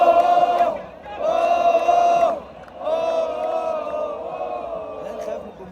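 A football stadium crowd chants and roars in loud, sustained surges at a match between Al Ahly and Al Ain, with brief dips between the swells.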